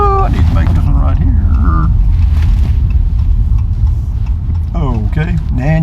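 A car engine rumbles loudly and continuously from inside the cabin as the vehicle drives and makes a turn near the border wall in Del Rio, Texas, with someone talking over it.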